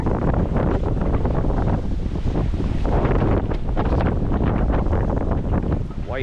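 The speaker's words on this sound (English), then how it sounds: "So it is a windy one today." Strong wind blowing outdoors at the Texas Renaissance Festival, a loud continuous roar buffeting the microphone in gusts throughout, with no other sounds standing out.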